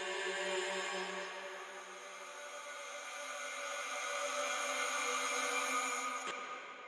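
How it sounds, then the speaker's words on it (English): A soft vocal sample sits in the background of a James Blake–style future beat, a sustained, airy layered tone that holds steady and swells slightly before cutting off near the end. "this little vocal sample in the background"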